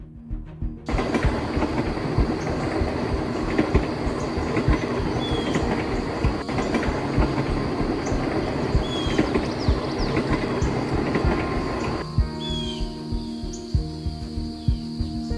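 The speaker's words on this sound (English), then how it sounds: "you can see the train repeatedly changing direction as it climbs higher." A train on a mountain railway among pine and cypress forests rolls and climbs steadily, with a continuous loud rumble, rattling wagons and faint squeals of wheels on the curves.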